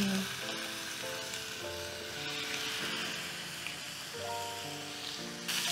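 Steak frying in a pan, cooked toward medium, giving a steady close sizzle and crackle throughout, with soft background tones and no talking.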